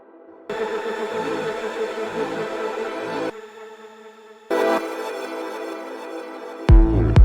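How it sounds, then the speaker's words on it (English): A reversed synth chord swells in a psychedelic techno track, followed by a long reverb tail that fades out, sustained and fairly loud, with no voices. "the same chord just in reverse. And with the extra reverb to tail it out."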